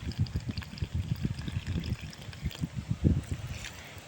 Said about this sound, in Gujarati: હું થોડું પાણી દઉં છું